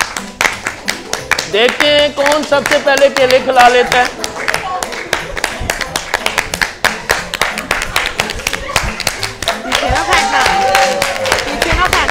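Audience clapping for contestants at the start of a banana-eating race on a Catholic TV game show, a steady patter of hands running under loud talk and music.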